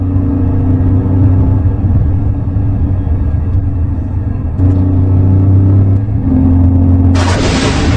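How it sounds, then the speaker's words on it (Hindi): A trader's car rolling into a village, with a steady low engine rumble and road noise that runs throughout, closing with a burst of broadband hiss near the end. "तभी एक व्यापारी अपनी गाड़ी से गांव में आ जाता है।"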